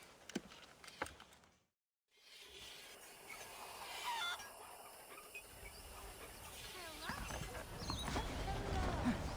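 Saddled horses clip-clopping in the video game Red Dead Redemption, with steady hoofbeats among ambient game noises that grow busier and louder toward the end, after a brief dropout near the start.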